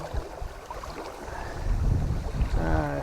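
Wind blowing hard outdoors during fly fishing by reeds and canes, a steady broadband rush and microphone buffeting that grows louder and rougher in the second half, with no speech.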